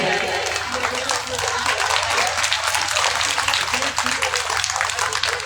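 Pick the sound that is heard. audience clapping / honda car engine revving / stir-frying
audience clapping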